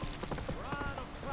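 Roach, the horse in The Witcher 3 video game, gallops in a quick run of clip-clop hoofbeats, with game voices faintly underneath.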